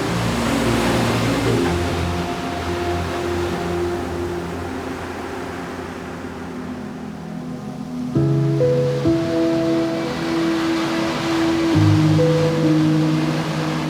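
Ocean waves surge and wash in a continuous rushing roar, with a low droning Honda marine engine hum running underneath.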